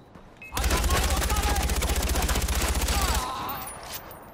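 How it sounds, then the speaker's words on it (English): A long, dense burst of automatic gunfire in Far Cry 4 pounds for nearly three seconds, loud and close, with a voice faintly present beneath. "I can't even look at him before I'm getting shot."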